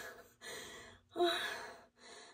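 A person pants heavily while hauling heavy Christmas gifts upstairs on Christmas Eve. Several breathy gasps come in uneven bursts, close and fairly soft, with no speech.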